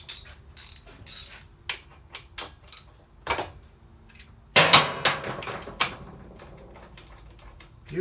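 Ratchet wrench clicking in short bursts while a spark plug is backed out of a Troy-Bilt 21-inch self-propelled mower, quiet and close with a sharper metallic clatter midway.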